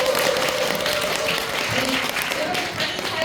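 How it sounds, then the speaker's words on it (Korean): An audience claps warmly at the end of a nutrition lecture, a steady burst of applause from a crowd in a hall with some voices mixed in. "다시 한번 박수 부탁드립니다."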